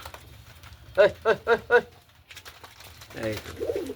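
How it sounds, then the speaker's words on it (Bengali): Four quick cooing calls from a pigeon in a steady run, then a pause and softer bird sounds with some background chatter. "বাইরেও কিছু কবুতর আছে"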